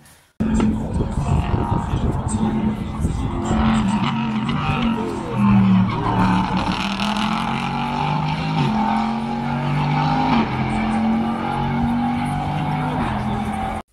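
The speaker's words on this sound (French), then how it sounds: "surtout dans ce dernier virage là avec cette réaccélération incroyable" A prototype race car engine roars and revs up as it accelerates out of a corner, its pitch climbing through gears, loud and close, with a voice talking over it.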